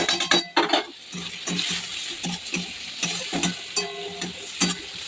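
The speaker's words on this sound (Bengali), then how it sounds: "মশলাগুলোর সঙ্গে শুটকি মাছটা ভাজা ভাজা হয়ে যাবে" Dried fish frying with spices and garlic in a pan, a steady sizzle broken by repeated scraping stirs and sharp clinks of a utensil against the pan, close and with no talking.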